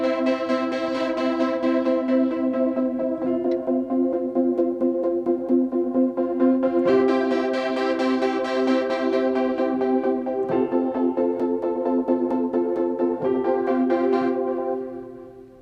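Omnisphere synth patch Falling Skies playing alone, an arpeggiated tone pulsing in steady eighth notes with bright harmonic layers, holding a chord before fading out at the end.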